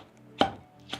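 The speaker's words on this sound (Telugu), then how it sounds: "మొత్తం కూడా మనం పచ్చిమిర్చి క్యారెట్ అంతా కూడా కలిసిపోవాలి, అలా దంచుకోవాలి మనం" Green chilies and carrot pounded together for a curd chutney, two heavy, close strikes about half a second apart, each with a brief ringing decay.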